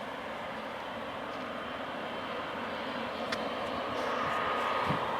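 An Emirates airliner taxis onto a stand at Newcastle Airport, its engines giving a steady low rumble and roar at moderate distance that builds slightly toward the end, with no talking.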